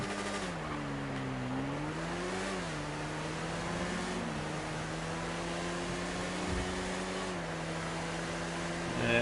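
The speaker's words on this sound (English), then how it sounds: "so I'm going to deliver this motorcycle" Motorcycle engine in GTA V Online holding a steady drone with several rises and dips in pitch as the throttle is eased and reopened, continuous and close throughout, with no talk.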